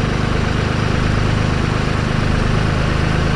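A New Holland tractor engine, 5510 or 3630 Turbo, runs steadily at a constant idle with a deep, even rumble. The sound is loud and close and carries on without a break, with no talk over it.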